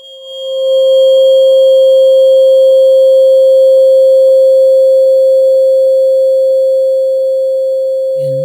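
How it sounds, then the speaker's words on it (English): A struck tuning fork tuned to 528 hertz rings out as a pure, loud, sustained tone, swelling in over the first second and then holding nearly steady with only a slow decay, with a small clatter right at the end. "We're going to strike the fork for the first time, 528 hertz."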